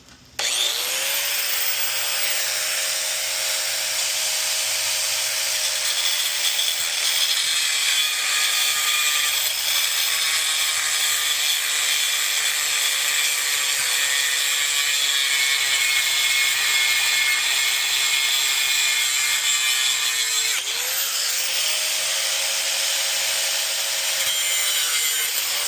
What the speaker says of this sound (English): We're gonna cut this shaft off, man.